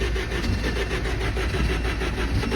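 A K20-swapped, turbocharged Toyota MR2 cranks over with its fuel pump disconnected, so the engine never fires: a steady, close mechanical churning with faint rhythmic pulses that holds evenly throughout.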